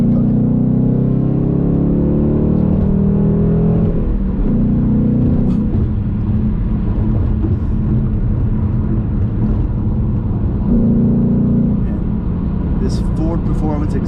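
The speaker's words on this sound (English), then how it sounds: "Ford Performance exhaust sounds so good." A Ford Mustang GT with a Ford Performance exhaust accelerates in third gear, its engine note rising and falling in long surges, with a driver talking over the throaty rumble from inside the car.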